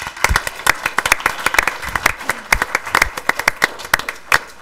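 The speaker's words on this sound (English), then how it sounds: "So these people need a big round of applause for what they do." A smallish audience at a township board meeting claps in a sparse, uneven burst where individual sharp hand claps stand out close by, continuing unevenly for several seconds.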